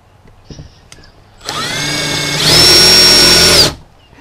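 A power drill drilling into a Duraflex car spoiler winds up and runs steadily, then jumps to a louder, higher whine for about a second before stopping abruptly.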